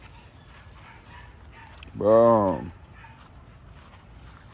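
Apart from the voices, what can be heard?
puppies yipping and whimpering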